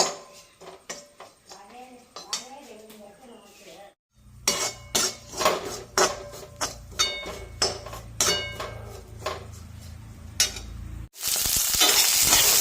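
Onion, coriander powder, chili powder, turmeric and fenugreek fry in a pan while a spoon scrapes and clinks against the metal in a quick irregular rhythm over a soft sizzle, ending in a sudden loud hiss; a faint voice is heard early on.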